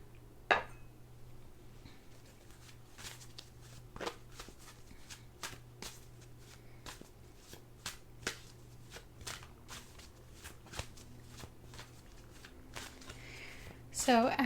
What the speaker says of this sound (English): let's pull some tarot cards and see what is recommended for the week